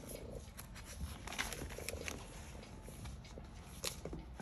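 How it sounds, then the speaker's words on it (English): A domestic cat purrs softly and continuously close by, a low steady rumble with faint ticking and shuffling movements over it, recorded quietly indoors at a desk. "Okay, hopefully you won't mind the cat."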